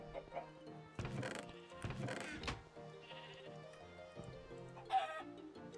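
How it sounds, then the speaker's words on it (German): Chickens cluck in a Minecraft game world, several short bursts over soft background music, fairly close and moderately loud. "Und warum sind hier Hühner?"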